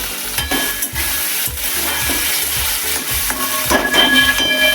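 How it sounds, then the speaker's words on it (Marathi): Potato pieces fry in a pan with salt for sabudana khichdi, a loud, close sizzle with hissing bursts and rhythmic scraping and stirring strokes against the pan, and no voices. "झाकण ठेवून 2 मिनिटे फ्राय होऊ द्यायचे बटाटे"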